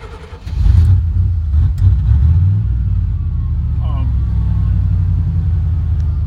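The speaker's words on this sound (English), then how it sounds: "Man, your car sounds like a big gas guzzler." A 5.7-liter car engine runs with a deep, steady low rumble that swells briefly near the start and then holds even. Faint voices come through alongside the engine.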